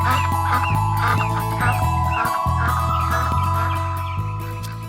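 Goose honking repeatedly in quick, nasal calls over a steady low drone, loud and close, with no voices.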